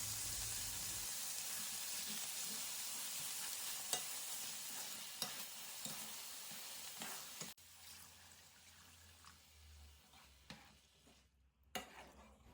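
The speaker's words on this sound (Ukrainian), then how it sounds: "деглазую фарш помідорами та бульйоном" Minced meat in a pan being deglazed with tomatoes and broth for a skillet lasagna, a soft continuous sizzle and bubbling with faint stirring scrapes and clicks, fairly quiet throughout.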